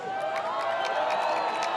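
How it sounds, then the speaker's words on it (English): Crowd at a baseball game, the Midnight Sun Game in Alaska, roaring and cheering in a dense, loud wash of voices with scattered clapping. "crowd, make some noise."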